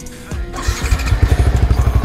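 A modified Yamaha Vixion motorcycle engine cranks and catches, settling into a loud, close, rapidly pulsing idle.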